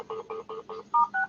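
Telephone keypad tones for dialing a number, six short evenly spaced beeps in quick succession, loud and close with nothing else heard.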